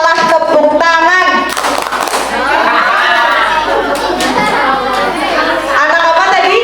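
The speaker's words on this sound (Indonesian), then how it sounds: "kalau kau anak soleh tepuk tangan." A group of schoolchildren clapping their hands in time during a sung action chant at an Islamic school, sharp claps mixed into loud singing voices and chatter.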